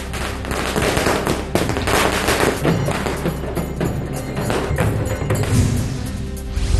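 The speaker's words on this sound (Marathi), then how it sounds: "फटाक्याची आतषबाजी" Firecrackers and fireworks set off in celebration of a political alliance's win at a street gathering in Islampur, a dense, continuous crackle of pops and thuds, loud and close, with no clear pauses.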